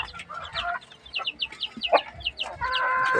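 Pet chickens clucking close by during feeding and watering, a steady stream of short, overlapping clucks and chirpy calls in a yard, with no talking.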